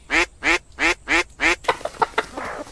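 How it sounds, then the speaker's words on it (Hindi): A golden duck caught in a net gives five loud, evenly spaced quacks close up, followed by a quick scramble of softer, choppier flapping and rustling sounds. "उस जाल में एक सुनहरे रंग की बत्तख फड़फड़ा रही है"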